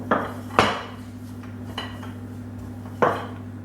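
Dough gets mixed with a little water in a bowl, giving a few sharp clinks and knocks of a utensil against the bowl over a steady low hum, close and otherwise quiet.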